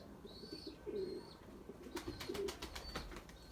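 Pigeons coo softly in short repeated phrases, with faint chirps nearby and a brief flutter of wings toward the end.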